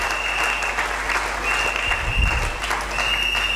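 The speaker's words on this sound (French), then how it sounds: "Est-ce que nous pouvons acclamer" Church audience applauding loudly and steadily at a sermon, dense clapping throughout with a faint sustained tone in the background and no speech.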